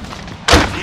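A grenade explodes in the video game Call of Duty Warzone, a single sudden loud boom bursting in after a quieter moment and then fading slightly.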